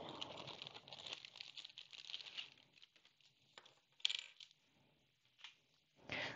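Silk embroidery threads are pulled out of a bag with soft crinkling and rustling in several short bursts and one brief sharp clink, close and quiet against near silence.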